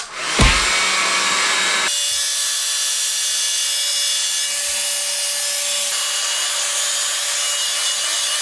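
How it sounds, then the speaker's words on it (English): A blow dryer on its cool setting drying curly hair, a loud, steady whooshing drone with a constant whine, running without pause and shifting slightly in tone partway through. "now I'm just going to use a blow dryer to keep these curls elongated"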